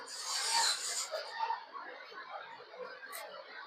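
A spoon scrapes the flesh from an avocado skin, making close, soft rasping strokes while someone talks over it.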